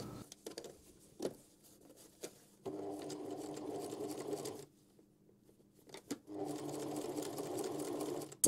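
A sewing machine top-stitches a tote bag seam in two sustained bursts of rapid, even whirring. Quiet pauses and light handling clicks separate the bursts.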